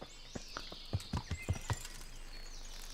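Horse hooves clip-clop in the medieval game Kingdom Come: Deliverance, a close, steady walking rhythm of distinct thuds over a soft background hum, with no speech.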